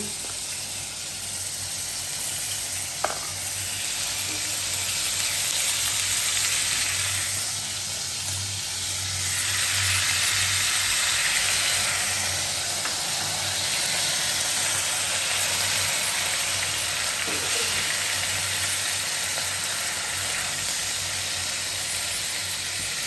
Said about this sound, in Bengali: আদা রসুনটা কষানো হয়ে গেছে